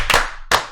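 Sharp hand claps in a quick rhythmic burst from the Korean World Cup chant, two close claps, a pause, then another pair starting, loud and near with no voices over them.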